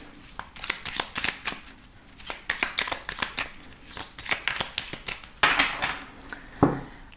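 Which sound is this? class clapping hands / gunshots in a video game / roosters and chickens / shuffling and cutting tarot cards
shuffling and cutting tarot cards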